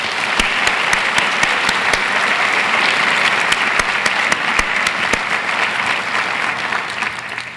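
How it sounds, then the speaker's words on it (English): Sustained audience applause fills a hall during a university's State of the University address, a dense, steady wash of many hands clapping at full volume that tapers slightly toward the end. "Let's give them a round of applause."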